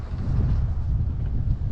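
Strong wind gusts through a Japanese garden on a snowy November day, a loud low rumble buffeting the microphone without pause.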